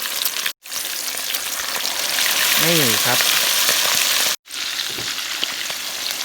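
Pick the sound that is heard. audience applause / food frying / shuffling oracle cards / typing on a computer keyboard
food frying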